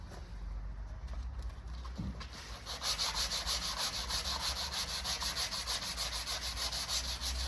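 Close, steady back-and-forth rubbing of 180-grit sandpaper on car body panel during bodywork repair, softer at first then louder and continuous, with no speech.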